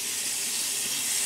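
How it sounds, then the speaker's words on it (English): A water tap runs in a steady, close hiss as a brush is rinsed out under it, with no talking. "I'm just washing this brush out"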